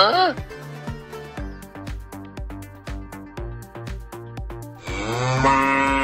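A cartoon cow moos in a drawn-out, tonal call at the start and again at the end, with bouncy musical beats and bright tones between in a playful animated animal scene.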